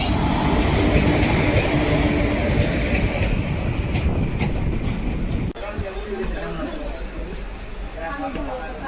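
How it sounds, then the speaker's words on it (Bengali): A passenger train pulls out of Dhulian Ganga station, heard from aboard as a loud, continuous rumble of wheels with clatter that drops in level and turns rougher partway through. "তো আমাদের ট্রেন ইতিমধ্যে ছেড়ে দিল ধুলিয়ানগঙ্গা থেকে"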